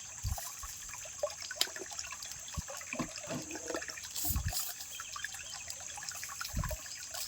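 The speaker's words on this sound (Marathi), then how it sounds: "शेव टाकून या बाटल्या पाण्यामध्ये ठेवू" Plastic bottles baited with sev are lowered into water as bottle traps for fishing in Kokan, giving soft, scattered sloshes and light drips and trickles, fairly faint and irregular, with no talk.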